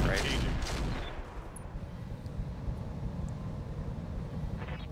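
Mech weapons firing in the battle game RogueTech, a loud burst of gunfire and explosive impact at the start that fades into a rumbling, crackling tail of distant blasts.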